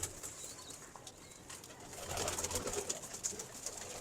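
Pigeons of a fancy breed coo softly in a loft, low murmuring calls mixed with faint chirps and a steady background hiss, no talking.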